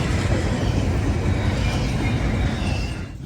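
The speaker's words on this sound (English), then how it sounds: "it takes almost an entire train's length for this intermodal to reach typical K-drive crossing speeds" An intermodal freight train accelerates steadily past at a South Carolina trestle in Greenville, a loud continuous rumble and rail roar close by that eases slightly at the very end.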